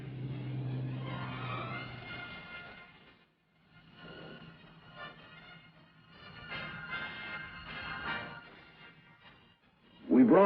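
Trucks rumble along a road built up onto the edge of the Greenland ice cap, a low engine drone that fades and returns, mixed with a voice and ending in a sudden loud burst.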